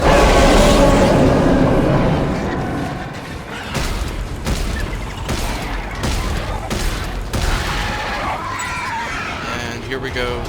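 Rapid gunfire from weapons in the sci-fi horror video game Dead Space 3, a dense loud burst at first, then a series of separate sharp shots fired in a steady rhythm, with mechanical clanks in between.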